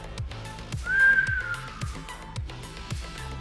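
A person whistles a single wavering, slightly falling tone, fairly close and clear, over rhythmic thumping game sounds from RoboQuest.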